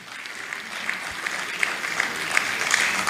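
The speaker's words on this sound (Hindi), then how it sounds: "जोरदार ताली तो बनती है।" Audience applause after a theatre performance, a continuous patter of many hands clapping, fairly close and building slightly in intensity over a few seconds.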